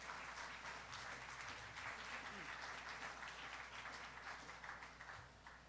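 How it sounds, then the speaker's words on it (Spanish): Sustained applause from a church congregation, a dense wash of clapping that holds steady and then tapers off slightly near the end, heard at a moderate distance. "Denle un aplauso fuerte al Señor"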